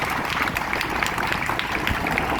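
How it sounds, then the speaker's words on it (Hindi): Steady applause from a gathered crowd honoring Pandit Prahlad Vyas at a gathering on Vishnu and Gopal Sahasranama recitation, dense continuous clapping at moderate loudness throughout. "ऐसे पंडित प्रहलाद जी व्यास के लिए तालियां"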